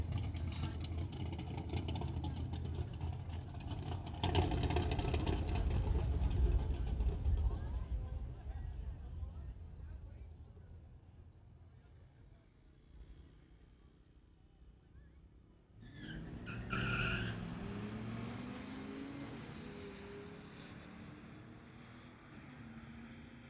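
A ragtop Mustang and a 2010 Nissan SUV drag race at an NHRA Summit ET Series strip. Loud engine roar builds and holds, fades away, then a second surge of engine noise bursts in near the end.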